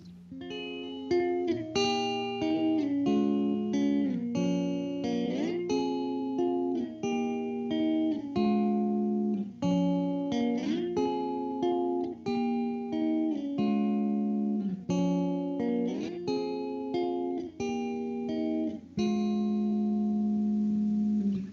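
An acoustic guitar plays plucked chords and single notes in a steady, flowing pattern, bright and clear, with no voices.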